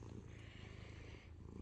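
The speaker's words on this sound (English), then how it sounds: "She just started purring up a storm as soon as we walked in the door." A contented pet cat purrs steadily in a rhythmic low rumble, faint and close, with no talking.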